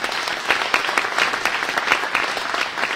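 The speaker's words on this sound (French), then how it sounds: "je vous demande de bien vous les applaudir" An audience claps steadily at a mayor's New Year wishes ceremony, moderately loud, dense applause with individual claps faintly standing out over a few seconds.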